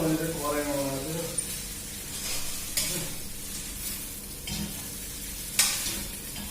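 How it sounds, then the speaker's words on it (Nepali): Chicken chow mein stir-frying in a kadai, a steady crackling sizzle with scraping stirs and a few sharp clatters, heard up close alongside speech. "अब यसलाई खास फ्राई बनाउनु भने मैले चाहिँ कराईमा बनाएको छु।"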